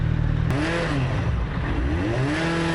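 A 600cc motorcycle engine revs up and down with a rising and falling whine over a steady rumble, heard close with some rattling and wind noise throughout.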